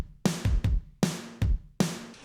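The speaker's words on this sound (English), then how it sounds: "I doubled the kick and the snare with" Punchy kick and snare hits alternate in a steady pattern, each sharp attack decaying quickly, loud and close with no other sounds.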